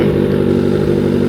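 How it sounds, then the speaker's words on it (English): A 2025 Kawasaki ZX6R engine roars loud and close at steady high revs on a racetrack track day, a brief continuous burst with no talk. "Dude, the bike sounds healthy."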